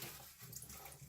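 Running tap water splashes over an aquarium canister filter media bag being rinsed, a steady close, broadband gush throughout with no talking.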